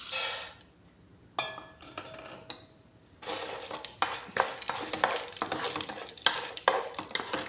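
Chana dal fries in a spoonful of oil in a pan, with a close crackling sizzle broken by repeated metal spoon scrapes and clinks against the pan as it is stirred.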